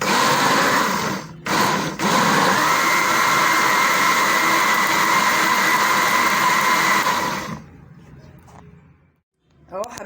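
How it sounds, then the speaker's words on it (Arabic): Countertop blender whirring as it mixes juice with vanilla ice cream, a loud close motor roar with two brief dips near the start, running about seven seconds before stopping into near silence. "وهنضرب تاني."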